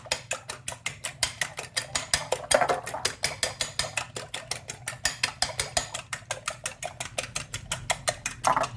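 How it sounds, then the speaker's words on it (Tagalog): Two eggs being beaten briskly with a fork or whisk against a bowl for a Spanish potato tortilla, a fast steady run of rhythmic clicking strokes, close and continuous with no talking. "Tsaka ito yung dalawang itlog. Ibibit natin ng maigi."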